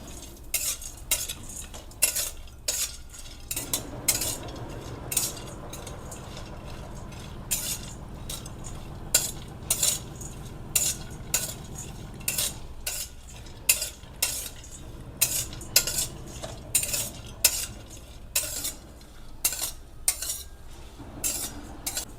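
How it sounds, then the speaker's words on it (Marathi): Cashews roasting in ghee over a low flame, a spoon steadily stirring and scraping the pan with soft metallic clinks and a faint sizzle underneath, close and alone without talk. "एक चमचा ते तूप टाकून घेऊ आणि आपले काजू आहेत ते छान मंद गॅसवरती परतून घेऊ"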